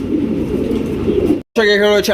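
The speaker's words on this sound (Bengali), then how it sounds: "আরো এক জোড়া গোল্লা কবুতর দেখতে পাচ্ছেন একদম সুন্দরী গোল্লা কবুতর" Golla pigeons at a pigeon farm coo in a steady low murmur through the first stretch, then after a brief gap someone talks over them.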